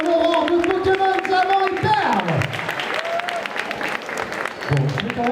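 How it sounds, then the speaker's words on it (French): Crowd applause at a cosplay contest on stage for a Pokémon Diamond and Pearl cosplayer, clapping running under loud talk and music. "Applaudissements s'il vous plaît pour Mandriane en aurore de Pokémon Diamant et Perle."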